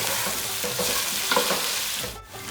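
Whole spices, including cinnamon stick, bay leaves, green cardamom and black pepper, fry in hot oil with chopped onion, giving a loud continuous sizzle with occasional stirring scrapes up close.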